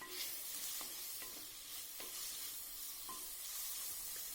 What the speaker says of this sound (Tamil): நம்ம கட் பண்ணி வச்சுருக்கிற ஒரு தக்காளி பழத்தை இது கூட சேர்த்து நல்லா வணக்கி விட்டுருங்க